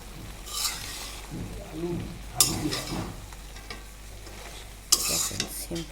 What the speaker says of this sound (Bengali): তো দেখেন আমি আবার একটু নেড়ে দিচ্ছি।